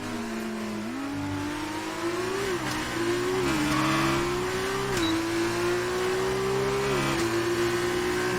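Formula 2 race cars on the penultimate lap of a 16-lap feature race at Bahrain in F1 2019 roar past with a high, steady engine whine that shifts pitch through gear changes, loud and continuous.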